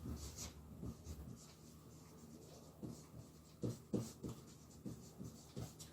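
Handwriting during a history lesson comes through as soft, faint scratching strokes in short irregular bursts, quiet and close, with no talk over it.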